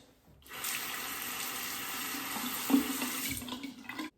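Water runs from a sink tap for rinsing during a wet shave, a steady close splashing stream that starts abruptly, holds for about three and a half seconds and then cuts off.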